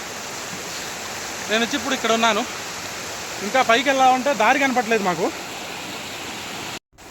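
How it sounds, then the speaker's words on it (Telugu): A steady, rushing roar of water falling from a waterfall fills the whole clip, with someone speaking over it in two stretches. "ఇవి పైన జలపాతం నుంచి పడతా వస్తూ ఉన్నాయి"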